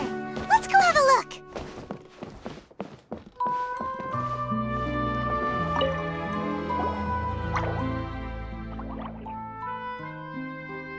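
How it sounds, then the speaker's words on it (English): A water droplet drips in Genshin Impact, giving a quick run of wet plinks and plops in the first few seconds before sustained game music takes over. "it sounds like a water droplet is on the second floor!"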